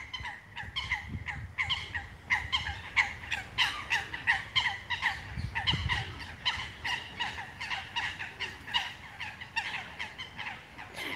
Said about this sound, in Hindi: आप लोगों को डक्स की आवाज आ रही है?